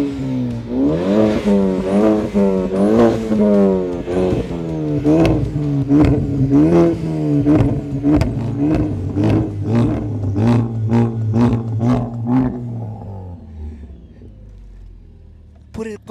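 A Ford Focus ST engine starts and revs up and down again and again, close and loud, then settles into a lower idle as voices talk alongside.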